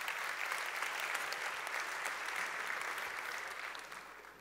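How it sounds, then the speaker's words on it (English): An audience applauds at a talk, with dense, steady clapping from many hands that stays even throughout and tapers slightly at the end. "let's give them a round of applause"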